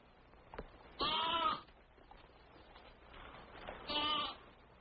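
A young lamb bleats twice, a few seconds apart, each call short and wavering and fairly faint against quiet outdoor background.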